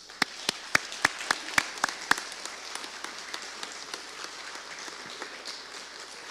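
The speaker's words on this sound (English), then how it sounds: "Students, you deserve a round of applause, but parents, you deserve a bigger round of applause." At a scholar-of-the-month ceremony, several loud, sharp individual claps ring out at first, then fade into lighter, scattered clapping from a small audience.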